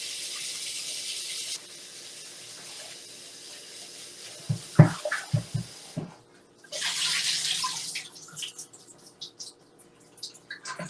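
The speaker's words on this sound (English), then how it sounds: "so we're going to rinse it one more time." Running tap water hisses into a kitchen sink while chicken and rice casserole ingredients are rinsed, then stops briefly with a few clunks and drips before the stream resumes loudly.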